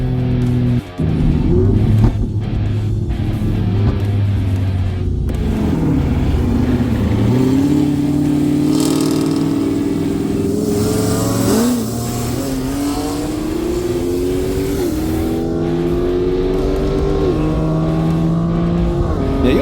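A Cadillac revs hard while racing, its engine pitch climbing and dropping through repeated shifts as it accelerates, loud and close for the whole stretch with no talk over it.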